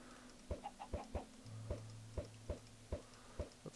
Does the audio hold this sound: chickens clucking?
yes